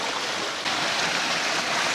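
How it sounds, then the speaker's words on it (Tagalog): Water rushes steadily at Hulo Falls in Tagaytay, a constant, close, full-bodied roar of flowing water that runs unbroken for two seconds with no voices. "yung lagaslas ng tubig"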